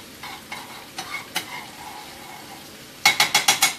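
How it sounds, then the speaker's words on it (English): Food searing in a pot over high heat sizzles steadily while a utensil scrapes and stirs in short strokes, ending in a quick run of five sharp, louder scrapes close by. "you want this to cook and sear on the outside"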